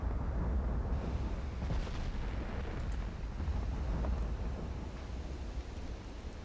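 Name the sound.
warship guns firing HE shells, Ultimate Admiral Dreadnoughts video game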